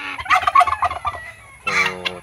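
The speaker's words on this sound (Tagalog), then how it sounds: "Ang pabo nandito nakiwalay kasi baka barakuhin itong" A backyard turkey gobbles in two loud, close bursts of rapid warbling, the first longer and choppy, the second short after a brief pause.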